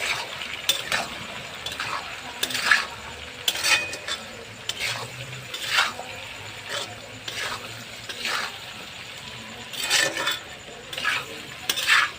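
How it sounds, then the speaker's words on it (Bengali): Chopped vegetables with chilli, salt and turmeric frying in a pan, a low sizzle broken by repeated scraping and clinking strokes of a spatula against the metal, irregular and close. "সবজিটা একটু ভেজে নিয়েছি"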